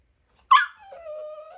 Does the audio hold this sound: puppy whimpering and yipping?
yes